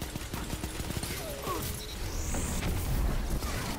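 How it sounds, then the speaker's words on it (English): A Nova Bomb detonates in a Destiny 2 firefight amid rapid weapon fire and clattering impacts, a rising whoosh followed by a heavy rumbling blast, moderately loud over continuing combat noise. "was that a Nova Bomb right next to me?"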